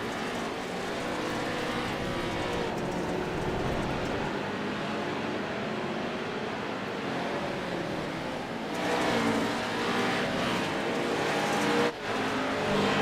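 Pro Trucks racing around Sonoma Raceway, engines roaring and revving continuously as trucks pass through lap traffic, loud and sustained with shifting pitch as vehicles go by.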